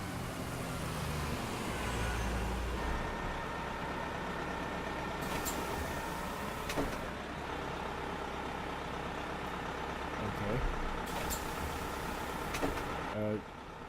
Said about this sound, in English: I arrive just in time to see the bus pull up to my stop